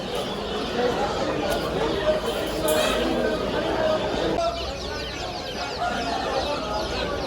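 Chickens of the Brahma breed cluck among crowd chatter at an open-air poultry market, near and continuous beneath people talking.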